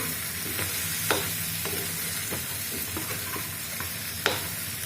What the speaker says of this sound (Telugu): ముక్కలు చూడండి చక్కగా ఫ్రై అయిపోయినాయి